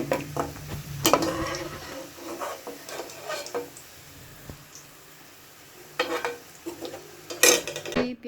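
Fried onions are lifted out of hot oil and dropped onto a plate for a mutton qorma, with scraping spoon clatters and light sizzling that come in short, uneven bursts close by.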